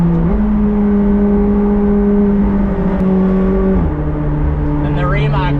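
A McLaren 765LT Spider's engine drones under acceleration while driving, holding a steady tone that drops sharply at a gear change before building again, loud and continuous from inside the car.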